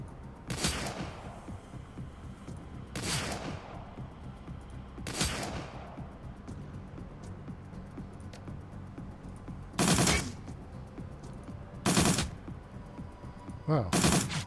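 Combat gunfire in the video game Shadowrun Dragonfall, heard as about six separate bursts spread every two to three seconds, each a short noisy blast of shots over a low ambient game background.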